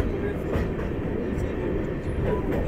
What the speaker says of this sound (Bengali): হ্যাঁ, এই আমরা ঢুকে পড়লাম নসিপুর রেল ব্রিজ